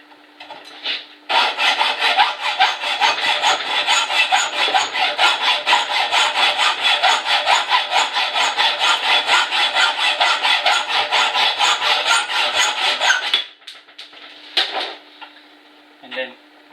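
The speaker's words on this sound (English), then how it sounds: "Then depending where you want to cut it, you cut where it's too much." A hand saw cuts off the excess end of a threaded bolt with fast, steady back-and-forth rasping strokes, close and loud for about twelve seconds before stopping, followed by a few scraping sounds.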